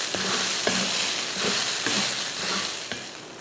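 Cooked rice stirred into a frying pan for carrot rice over low heat, soft continuous sizzle with rhythmic scraping strokes of a spoon roughly every half second, no talking.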